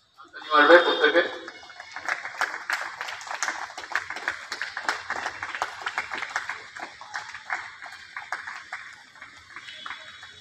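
A school audience claps together for Netaji Subhas Chandra Bose's birthday on 23 January. Close, dense, rapid clapping surges in loudly, then carries on as steady, irregular applause for the rest of the stretch.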